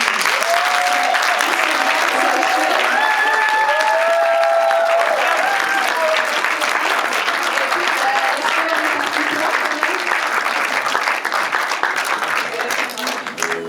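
Loud, sustained applause from a cinema audience at a film premiere screening at the Brady cinema fills the whole stretch, dense and steady, with cheers and voices mixed into the crowd.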